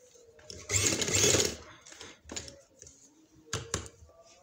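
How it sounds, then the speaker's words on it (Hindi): A sewing machine stitching along the edge of a trouser, a close rattling burst of rapid needle strokes followed by shorter, quieter runs and pauses. "इधर हम किनारे किनारे के ऊपर इसके इस तरह सिलाई लगाएंगे"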